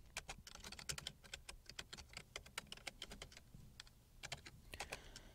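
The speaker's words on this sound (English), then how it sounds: "typing city names, press tab, and typing a number of employees" Someone types on a computer keyboard while entering city names and employee numbers into a table, producing quick, irregular clusters of crisp key clicks with brief pauses, close and fairly quiet.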